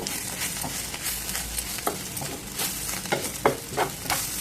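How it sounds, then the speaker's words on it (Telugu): Carrot fry with crushed garlic and chili powder being stir-fried in a pan, a soft steady sizzle broken by repeated spatula scrapes and stirring taps at an irregular rhythm. "పదిహేను నిమిషాలు బాగా వేయించుకోండి"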